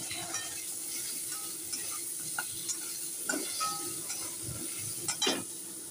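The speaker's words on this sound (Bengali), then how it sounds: "ঝিঙে দিয়ে দিয়েছি, পটল আলু আর ঝিঙে একসঙ্গে ভাজা হচ্ছে" Pointed gourd, potato and ridge gourd fry together in a pan, giving a steady close sizzle with scattered stirring scrapes and light clinks, and no voices.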